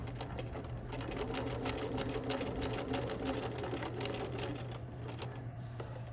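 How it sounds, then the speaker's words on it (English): A sewing machine stitches an invisible zipper, running at a steady, fast, even rate with a continuous mechanical whir and rapid needle ticking close by throughout. "So I'm going to remove this pin and just start off sewing and backstitch."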